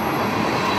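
A train rolls through a desert canyon in the Mojave, its steady rumbling roar of wheels and railcars heard close and loud, with no talking.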